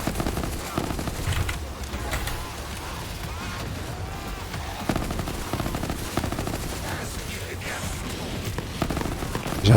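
Rapid automatic gunfire from the video game Borderlands 3, with bursts of shots running steadily through the whole stretch, loud and close, while someone speaks over it.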